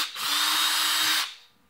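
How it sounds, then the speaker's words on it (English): A small cordless drill fitted with a 1/8-inch bit bores a hole through a small handle over scrap wood, giving one loud, steady whirring burst of about a second before it spins down. "take an 1/8-inch drill bit inside the little cordless drill here, and we're gonna put a bunch of holes drilled all the way through this little handle"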